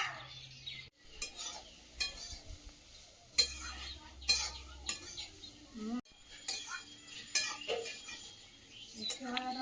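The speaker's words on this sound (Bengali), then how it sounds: "তেল অল্প দিয়ে ভাজা করে নিলাম, নামিয়ে নেব" Vegetables fry in a little oil in a pan, a faint sizzle broken by frequent stirring scrapes and clinks of utensils against the pan, with occasional talking nearby.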